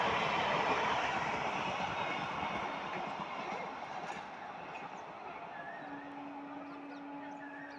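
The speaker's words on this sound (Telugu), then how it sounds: "ఇప్పుడేమో ఇదిగోండి ఇటు నుంచి వస్తుంది ఏకంగా ట్రైన్ అయితే" A train rumbles past nearby, its roar and rattling wheels slowly fading, then a long steady horn-like tone sounds near the end.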